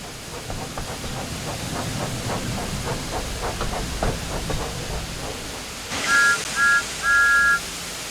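A steam engine chuffs steadily in the video game Thomas and Friends: Wonders of Sodor, then its whistle blows three bright toots, two short and one longer, standing out clearly above the rumble.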